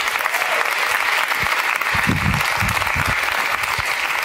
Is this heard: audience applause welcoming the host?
yes